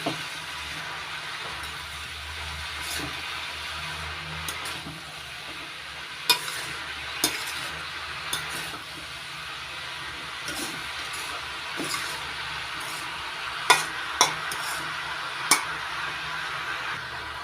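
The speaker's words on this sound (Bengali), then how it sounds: "নাড়াচাড়া করে ভালো করে মিশিয়ে নিয়েছি সব কিছু।" Bottle gourd curry with prawns is stirred in a frying pan over a steady low sizzle, with occasional sharp clinks and scrapes of the spoon against the pan, close and without talk.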